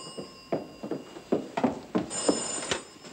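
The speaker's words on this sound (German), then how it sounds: "Toni ans Telefon." An old-fashioned telephone bell ringing in a 1950s Austrian inn, rapid metallic ringing in repeated bursts, moderately close and fairly clear, with no one speaking over it.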